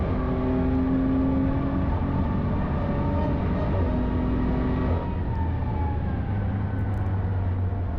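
BMW M4 engine pulling hard on the Nürburgring, a loud, steady roar with rising harmonic tones through a gear change, close and continuous without any talk.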